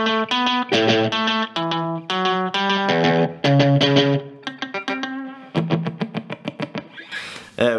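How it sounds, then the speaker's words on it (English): Electric guitar played through a pedalboard with a single-repeat slapback delay, each chord and note followed by a quick short echo. The playing is loud and continuous, with chords and single notes, then a burst of staccato picked hits near the end. "They do a lot of one repeat slapback delays"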